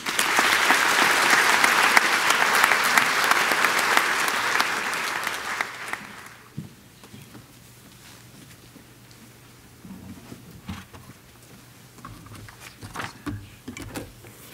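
An audience at a school commencement ceremony applauds to welcome a speaker, with loud sustained clapping that fades out after about six seconds, followed by quiet shuffling and faint movement sounds.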